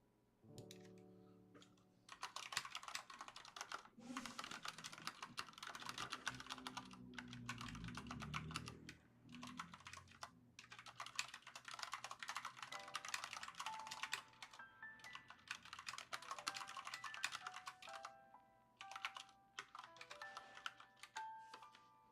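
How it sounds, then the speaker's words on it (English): Rapid, uneven clatter of keys on a split computer keyboard, typed in quick bursts with brief pauses, close and moderately quiet, with no talking. "This dang keyboard. It's a split keyboard."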